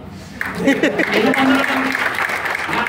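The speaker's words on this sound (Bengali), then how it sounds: "আপনারা সবাই হাততালি দিলেন" Audience applause at a talk on universities and education, a dense steady clapping that starts sharply and carries on at full strength under voices.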